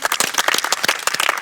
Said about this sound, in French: Donc moi, je vous applaudis. Bravo.